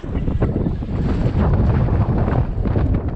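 Strong wind buffets a kayak out on rough sea off Rhode Island, a continuous loud roar and rumble of gusts across the microphone with no talk.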